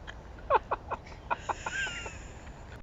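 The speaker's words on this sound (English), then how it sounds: "The sound of a tawny owl." A tawny owl calling at night outdoors, a short series of hooting and wavering notes, fairly faint and somewhat distant over a quiet background hiss.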